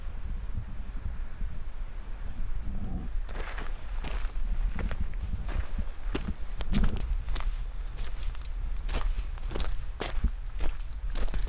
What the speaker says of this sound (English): you're just walking through scree